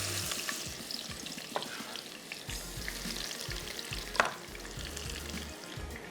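Onions frying softly in a pot as a base for gravy in a masala chips dish, a gentle continuous sizzle with scattered stirring scrapes and clicks.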